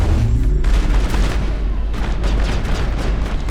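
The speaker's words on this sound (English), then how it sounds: "Good explosions and a little push" Booming explosions from the Overload tech power in the Mass Effect video game, a dense, loud series of blasts and crackling impacts layered over continuous combat noise throughout.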